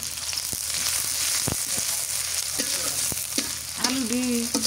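Green chillies and chopped onion fry in a pan with a steady, close sizzle, while a few scrapes of stirring come through and a faint voice surfaces near the end.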